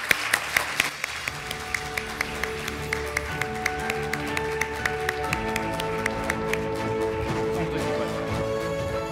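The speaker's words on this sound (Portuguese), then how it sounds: "Uma grande salva de palmas." Audience at a science awards ceremony claps steadily, with loud individual hand claps standing out in a regular rhythm over a background of music, lasting throughout.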